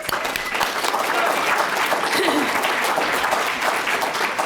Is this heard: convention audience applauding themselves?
yes